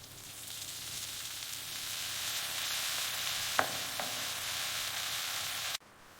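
Chopped onions sizzle steadily in a hot pan with a constant frying hiss, broken by a couple of sharp scrapes as they are stirred, before the sound cuts off abruptly near the end.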